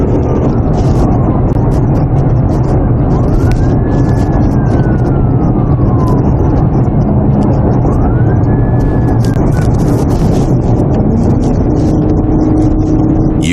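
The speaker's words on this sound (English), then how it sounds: "I've got my siren back" A police car siren wails in slow rising and falling sweeps over heavy, constant engine and road roar, as if heard from inside the fast-moving police car.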